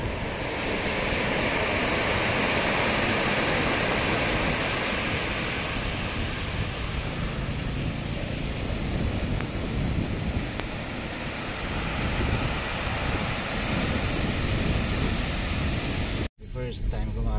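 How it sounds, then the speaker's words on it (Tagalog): Ocean waves crash steadily against a rocky shore on the coast of Aurora Province, Philippines, a continuous loud roar of surf with wind buffeting the microphone, ending in a brief dropout. "First time ko makakita ng ganitong alon."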